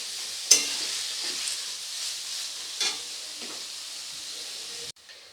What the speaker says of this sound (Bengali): তো দেখুন পেঁয়াজটাকে আমি সুন্দর গোল্ডেন কালার করে ভেজে নিয়েছি।